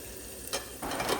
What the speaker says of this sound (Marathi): कांदा चांगला लालसर होईस्तोवर मारून घ्यायचा